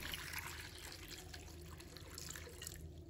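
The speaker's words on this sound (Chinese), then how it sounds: "把它放入盆中， 倒入清水" Water from a tap pours and splashes into a basin holding eight eggs, a soft, continuous trickling rush at low volume.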